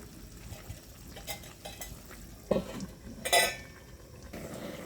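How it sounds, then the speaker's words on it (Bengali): Fish head curry with winter vegetables gets stirred in a pot, a few soft scrapes and clinks of the spoon against the metal with a couple of sharper knocks, fairly quiet and without talk. "নেড়ে ছেড়ে দিচ্ছি আবারও দশ মিনিটের জন্য ঢাকনা দিয়ে ঢেকে দেব"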